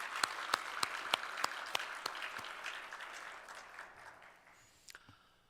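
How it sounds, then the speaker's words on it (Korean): A church congregation at a Korean Sunday worship service applauds, giving glory to the Lord. Loud, evenly spaced claps ring out in a regular rhythm, then fade into a softer, trailing patter with a few late claps near the end. "우리 주님께 다시 큰 영광의 박수."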